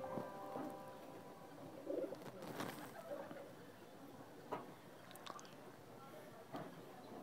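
Pigeons in a home loft, including short-face breeds, cooing at a low level with a few soft bursts and faint clatter, under a steady background hum.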